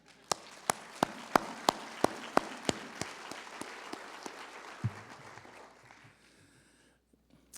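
Applause from the audience at a 2014 awards ceremony starts with sharp, evenly timed claps over a wash of hands, then thins and fades out over several seconds.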